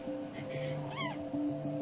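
A kitten with a malformation gives a single short, clear meow in a veterinary hospital in Lille, heard over a steady electrical hum of room equipment.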